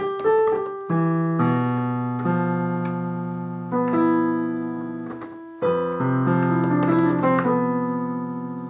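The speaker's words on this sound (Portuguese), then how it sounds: "Todo mundo vai saber que é um som de um piano." Piano chords played alone, a few struck groups of notes that sustain and slowly fade, with a brief run of higher notes near the end.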